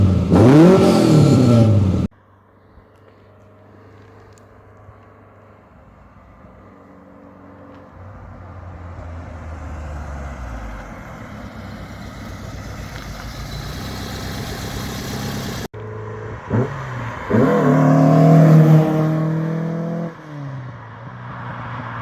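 An Alfa Romeo Giulia GT 1.6 Junior engine, heard from the rear of the car: a loud blip of revs, then a long steady idle that slowly swells, and finally a few stronger throttle rises before it settles back to idle.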